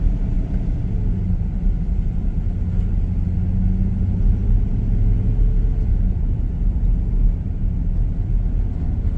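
A 2019 3500 Express van with a 6-liter V8 and 6L90E transmission drives along, its engine and road noise forming a steady, continuous rumble from inside the cabin with no talk.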